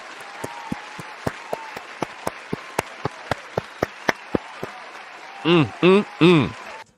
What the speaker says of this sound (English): let me give a real round of applause